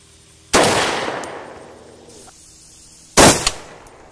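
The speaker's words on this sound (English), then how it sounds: "And I fired through the same hole." Two loud, sharp 7.62x51 rifle shots fired at about 25 yards into a ceramic body armor plate, each a sudden crack followed by a short decaying echo, the second arriving about two and a half seconds after the first.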